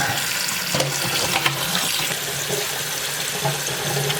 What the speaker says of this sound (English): We're gonna run some cold running water on it to stop from it to cook.